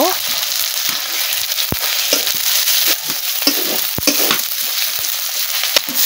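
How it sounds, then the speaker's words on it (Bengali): Ground spice paste is stirred into onions already fried in oil, sizzling steadily while a spatula scrapes the pan in repeated, irregular strokes close by. "পেঁয়াজগুলো ভাজা হয়ে গেলে এর মধ্যে আমি বাটা মশলাগুলো দিয়ে একটুখানি নেড়ে চেড়ে ভেজে নেব।"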